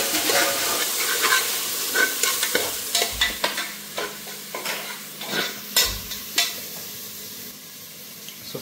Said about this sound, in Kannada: ಅದು ಸ್ವಲ್ಪ ಫ್ರೈ ಆಗಿ